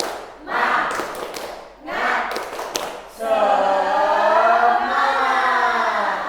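A class of trainee primary school teachers, led by the class leader, claps a rhythmic spirit cheer: two clusters of claps with shouted chanting, then a long, sustained group cheer of voices.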